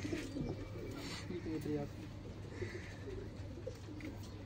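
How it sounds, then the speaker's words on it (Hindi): Pigeons coo in low, soft repeated murmurs close by, with a faint voice and steady background hum underneath. "कबूतर तो आनी जानी चीज है"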